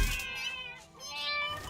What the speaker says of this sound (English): when you hit them, they make sad little cat sounds